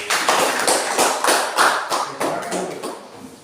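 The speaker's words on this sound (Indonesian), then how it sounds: "kita berikan aplaus untuk kelompok" A classroom audience gives a student group a brief round of applause, a few seconds of brisk clapping in an indoor room.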